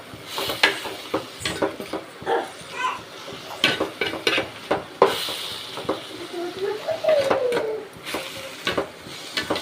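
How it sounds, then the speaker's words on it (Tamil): Ponnanganni greens are sauteed in a pan, with repeated scraping and clinking of a spoon against metal over a faint sizzle, in irregular bursts close by. "ஒரு நிமிஷம் வதக்கணும்."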